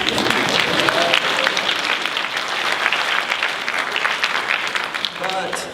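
Audience applause at a motivational talk, dense and steady clapping from a sizable crowd filling the whole stretch, with faint voices surfacing near the start and end.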